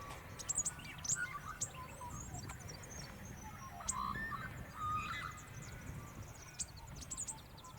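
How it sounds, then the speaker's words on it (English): Little swallows chirp and tweet in a tree in a yard, giving faint, scattered high calls over a quiet outdoor background, with a soft murmur of other noise in places. "There's little birds in the tree, little swallows."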